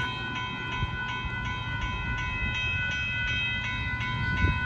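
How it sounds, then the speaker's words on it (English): A northbound Union Pacific freight train of hopper cars passing at Dittmar Road in Austin, Texas, a steady loud rumble with a bright sustained horn-like tone and faint rhythmic wheel clicks throughout. "now we have a northbound freight train coming in."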